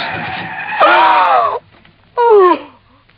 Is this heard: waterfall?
no